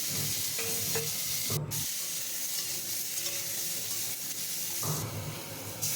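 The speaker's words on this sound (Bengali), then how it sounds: "তো ফোড়নে দিয়েছি শুকনো লঙ্কা আর কালো সর্ষে।" Dried red chillies and black mustard seeds sizzle in hot tempering oil in a kadai for mango chutney, a steady crackling fry with a few stirring scrapes, close and continuous with no talking.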